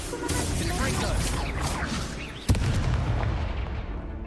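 An Incendio fire spell cast in Hogwarts Legacy, a rushing roar of game audio with one sharp burst of impact partway through, followed by a sustained crackling wash.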